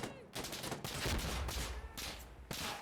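Close, rapid bursts of automatic gunfire in the video game Insurgency: Sandstorm, fired from the hip, with several dense volleys over loud game ambience.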